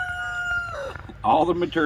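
A rooster crows nearby, a loud drawn-out call with a rising, wavering cry that breaks into a second burst at the end.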